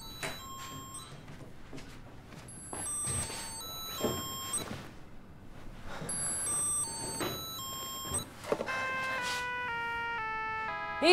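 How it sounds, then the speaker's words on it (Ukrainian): A Tamagotchi toy beeps for attention, repeated thin electronic tones in short bursts scattered among quieter room sounds, ending in a longer run of stepped beeps. "Тамагочі весь час пищало і вимагало уваги."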